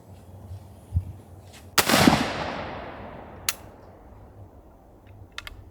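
A single sharp, loud black powder smoothbore pistol shot cracks out at 20 metres, followed by a long rolling echo that fades away, with a couple of faint distant clicks afterward.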